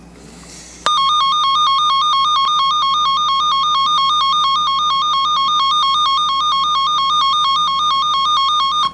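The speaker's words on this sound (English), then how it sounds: "as soon as you hear the drop off of the tone, you know that's where you have an issue at" A DC wiring short tester emits a steady, loud electronic continuity tone that starts abruptly near the beginning and holds evenly without a break to the end, with no talking over it.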